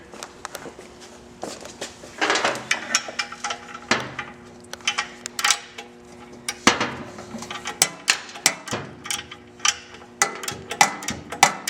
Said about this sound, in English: you can do your last bolt, your 15 millimeter